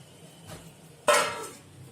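A metal lid set onto a cooking pot on medium heat while apple murabba cooks, giving one soft bump and then a sharp, close metallic clank that rings briefly and fades.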